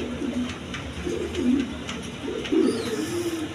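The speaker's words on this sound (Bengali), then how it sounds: "দর্শক এখানে এক পেয়ার কালারিং গোল্লা আছে, এই দুইটা ডিম নিয়ে বৈশা রয়েছে" A pair of colored Gola pigeons sitting on a clutch of eggs coo softly, with several low, repeated coos spread across the moment over faint background noise.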